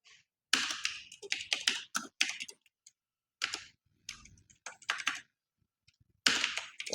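Someone types a name on a computer keyboard into an Excel sheet, bursts of quick close key clicks separated by short pauses, with no talking.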